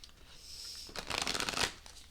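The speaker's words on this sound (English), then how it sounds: "I'll give it a couple more shuffles" Tarot cards are shuffled by hand in a quiet room, a soft riffling burst of rapid papery flutters lasting under a second, heard close and alone.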